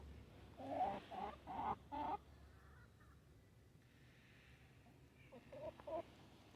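An Americana hen on a farm gives a few faint, distant clucks, a short run of rhythmic calls followed by a pause and then another brief burst.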